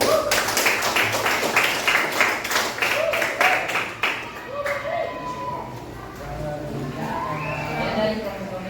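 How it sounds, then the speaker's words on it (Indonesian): A class of students claps for a group in a school lesson, a burst of rapid, uneven clapping for about four seconds that then fades out beneath voices talking. "Beri tepuk tangan semua"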